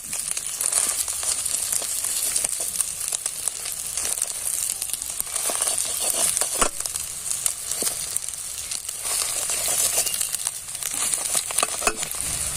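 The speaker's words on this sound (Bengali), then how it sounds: "এবার আমি পিস পিস করে ডিমটাকে কেটে নেব" A fried egg being cut into pieces in a pan with a spatula for an egg-and-flour snack, heard as continuous close sizzling broken by repeated sharp scraping and tapping strokes, with no talking.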